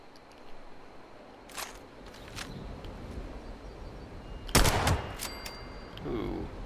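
Gunfire in Fallout 76 comes in a few sharp, separate shots spaced across several seconds, one louder and closer than the rest, over low ambient game noise.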